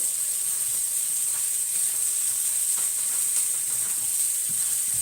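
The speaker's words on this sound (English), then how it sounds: "Ooh, hear that sizzle." Constant bright hissing fills the scene, an even sizzle like food frying in a hot pan, with faint clicks and small pops underneath.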